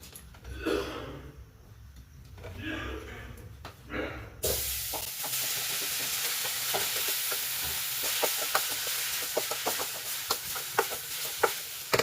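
Leftover vegetable curry is reheated and stirred in a pan. Quiet clatter comes first, then a steady sizzle and hiss sets in, with repeated scraping stirs layered over it.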